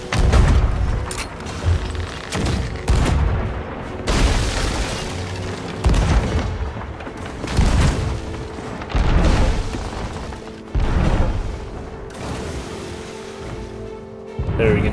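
Ship cannons fire in Sea of Thieves on Xbox One X: a series of heavy booms at irregular intervals, each with a rumbling tail, over sloshing ocean waves. Spoken words come through between the shots.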